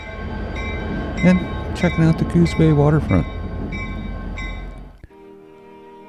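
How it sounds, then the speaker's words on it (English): A train running down the middle of a road along the Coos Bay waterfront rumbles past with steady wheel and engine noise and a few sharp horn-like blasts, loud and close, then cuts off abruptly while someone talks. "This week we're avoiding trains running down the middle of the road"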